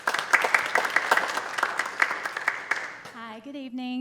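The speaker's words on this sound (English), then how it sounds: "Let's give him a big round of applause." An audience at a community safety town hall claps in steady applause for several seconds, dense and even, before a voice begins speaking.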